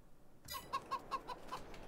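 Chickens cluck in Farming Simulator 22, a short series of about six evenly spaced clucks at moderate volume after a brief quiet start.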